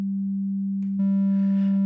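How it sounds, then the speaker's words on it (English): A pure, steady sine wave from a synthesizer oscillator in Bitwig Studio, fed through one mixer channel, hums continuously at a fixed pitch. A second, brighter tone joins it about halfway through. "So I've got here a sine wave on one channel of a mixer,"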